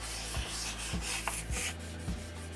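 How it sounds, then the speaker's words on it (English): Wet sanding of a 3D-printed crown's surfaces before painting, a steady rubbing abrasion with repeated back-and-forth strokes roughly every half second, close and moderately loud with no voices. "taking 5 minutes to wet sand all the surfaces"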